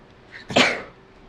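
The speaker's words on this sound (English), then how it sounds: "I'm gonna sneeze" A single sharp sneeze bursts out close to the mic, preceded by a brief inhale, then fades into quiet.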